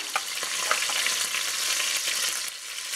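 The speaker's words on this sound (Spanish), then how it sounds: "seguimos sellando todas las piezas de pollo" Chicken pieces sear in a pot, a close, continuous sizzle and crackle of frying with small pops and occasional stirring throughout.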